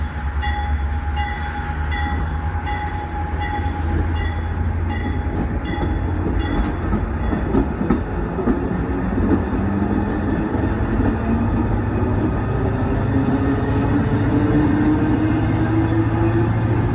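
A train rumbles steadily past at close range at New Creek station, with a continuous low engine drone, rhythmic wheel clatter and a rising squeal of wheels toward the end.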